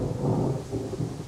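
Deep thunder from a Norwegian thunderstorm rumbles steadily through the whole short stretch, loud and broad with no voices.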